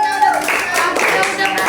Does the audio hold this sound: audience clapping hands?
yes